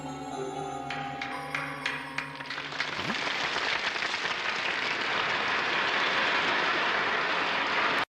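Applause in a Gundam Wing anime scene swells after a brief musical passage, dense clapping from a large crowd rising and holding loudly and steadily to the end.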